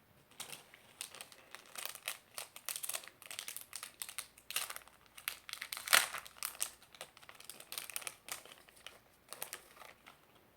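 Blue craft paper being cut and handled, giving a steady run of crisp crinkling and snipping sounds at close range, fairly quiet, with one sharper rustle midway and no voice.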